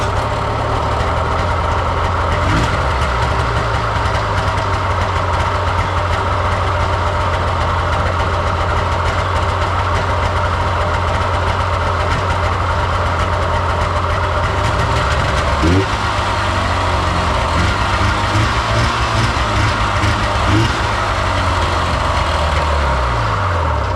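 An Indy 488 engine idling high at a fast, steady rumble, close and loud, with a brief shift in pitch partway through.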